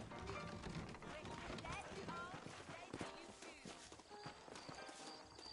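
Horse hooves clip-clop in Red Dead Redemption, a steady rhythm of hoofbeats running under game music and ambient noise, with a faint neigh possible amid the busy mix.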